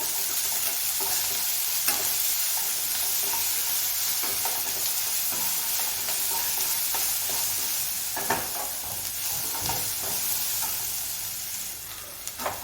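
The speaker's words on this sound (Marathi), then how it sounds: "यामध्ये कांदा सगळं व्यवस्थित फ्राय करून घेऊ" Onions frying in a pan for Rajasthani dal bati, a continuous loud sizzle with crackling and stirring scrapes that runs unbroken for the whole stretch, with no voices.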